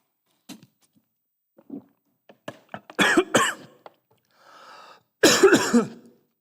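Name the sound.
cough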